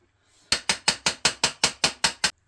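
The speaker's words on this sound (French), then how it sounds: "Petit coup de marteau, il est sorti." A hammer strikes the front wheel axle of a 125 X-max scooter, ten sharp metallic taps in a quick, even rhythm, loud and close, with no talk over them.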